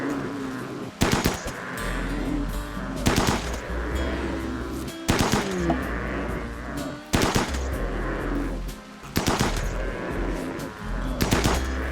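Bursts of gunfire from the RimWorld video game, several loud rapid volleys in a steady rhythm roughly every two seconds, each short and sharp, with a continuous low background hum between them.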